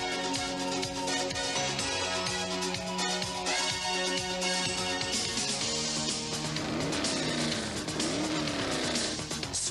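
Arcade racing car from the 1989 Turbo OutRun video game roars continuously at full throttle, with tire squeal and skidding layered over dense game music throughout.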